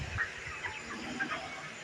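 Broiler chickens in a poultry shed holding about a thousand birds cluck and murmur in a dense, steady flock chorus, close and moderately loud, with no one speaking.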